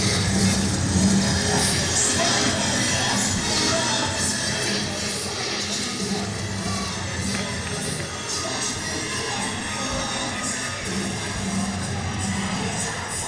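A local fight crowd cheers and roars continuously at a cage-fighting event as fighters are welcomed to the cage, a dense, loud wall of shouting and noise that stays steady throughout.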